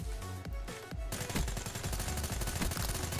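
Rapid gunfire from a weapon in the video game Black Ops 3, a dense run of loud, closely spaced shots with a few heavier blasts at the start, near and continuous with no talk.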